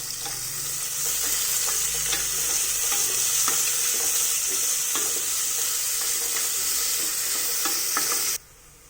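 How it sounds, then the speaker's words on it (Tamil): Onions sautéing in a pan until golden brown for mushroom rice, a steady close sizzle with faint stirring scrapes throughout, cutting off abruptly near the end. "நீங்கள் வந்து இந்த ஆனியன்ஸை நல்லா ஒரு கோல்டன் ப்ரௌன் கலர் வர வரைக்கும் நல்லா சாட்டே பண்ணணும்"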